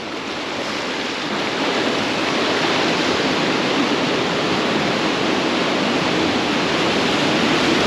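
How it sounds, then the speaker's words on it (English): A large ocean swell breaks against jetties as a broad, steady roar of surf that builds at the start and then holds loud and full throughout, with no voices. "New biggest swell of the day."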